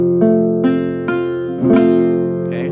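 A guitar barre chord in the first shape is strummed several times in a slow, even rhythm, each stroke ringing on into the next, close and full with no voice over it.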